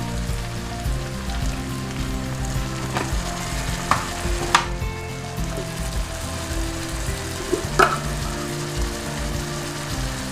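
Rice with noodles being stir-fried and mixed with sauce, vinegar and sugar in a pan, a steady dense sizzle with occasional utensil clicks and scrapes, close and without talk.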